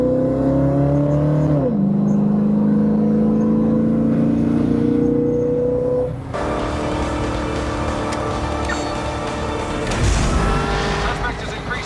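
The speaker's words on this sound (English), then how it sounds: "Also, it downshifts now." A 1968 Ford Mustang coupe engine drones loudly and steadily, drops pitch as it downshifts, then climbs again under acceleration with a rougher surge and a deep low rumble near the end.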